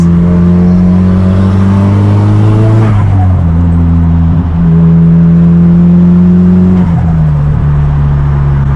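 Straight-piped Nissan S15 engine droning loud and steady while driving across a city bridge, a low harmonic rumble that dips as the revs shift around mid-pass and again near the end, with no talk.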